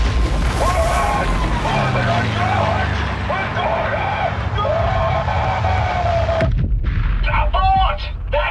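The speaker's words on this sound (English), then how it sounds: "That flak's thick enough to walk on!" Anti-aircraft flak cannon fire in the Sniper Elite Resistance video game, with heavy repeated booms and bursts under a droning aircraft engine and shouted radio chatter.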